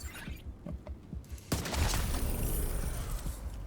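Video game firefight with sniper fire: a sharp report at about the midpoint, followed by sustained loud gunfire and noisy combat din after a quieter stretch of scattered shots.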